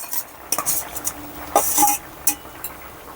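Fried potatoes go into a pan of fish curry with raw mango and are stirred, giving close clinks and scrapes of a utensil against the pan over a faint sizzle, with no talking.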